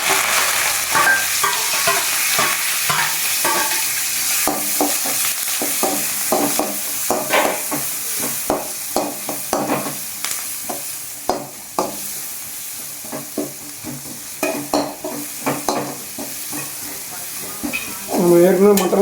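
Mustard seeds, sliced big onion, green chillies and curry leaves crackle and sizzle in hot oil in a home kitchen pan, with quick irregular pops and stirring scrapes throughout, close and fairly loud.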